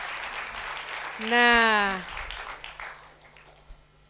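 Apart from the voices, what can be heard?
applause for a presidential candidate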